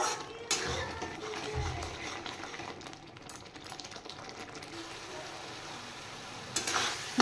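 Spice masala with chili powder, salt and a little sugar frying in a pan for a katla fish curry, a low sizzle with occasional scraping stirs and a couple of clatters, close, without speech.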